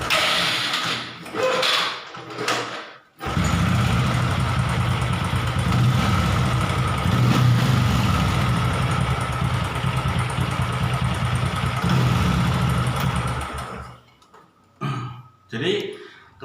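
A Honda Karisma 125 motorcycle engine idles steadily at close range for over ten seconds, a low even rumble bracketed by brief speech and clicks at the start and end.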